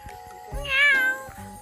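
A single clear cat meow, rising then falling, close by, with faint shuffling noises around it.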